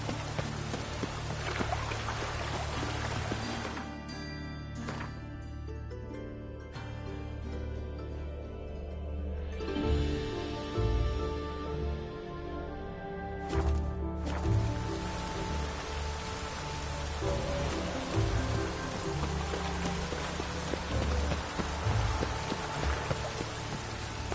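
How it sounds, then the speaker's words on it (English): Steady rain in a video game patters and hisses throughout, a dense wash of drops with low rumbling underneath, continuous and fairly loud. "Looks like rain."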